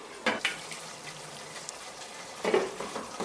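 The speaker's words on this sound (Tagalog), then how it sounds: "ilagay ko na ang carrots and the potato also. Haluin lang natin." Chicken asado with carrots and potatoes stirred in a pot, two clear scraping clanks of the utensil against the pot over a soft simmering sizzle, close by.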